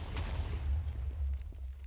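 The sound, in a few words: explosion in a video game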